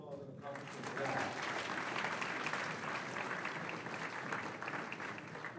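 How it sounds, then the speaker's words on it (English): Applause at a varsity athletic banquet honoring the boys soccer team, a steady wash of many hands clapping in a hall from the start, evenly loud throughout, with faint crowd murmur beneath. "What a big round of applause and accomplishment for that."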